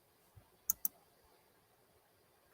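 Two crisp mouse clicks in quick succession, close and fairly quiet, followed by near silence with a faint extra tick at the end.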